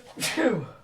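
A person sneezes once during a casual podcast-style conversation: a short, sharp burst close to the microphone that fades quickly.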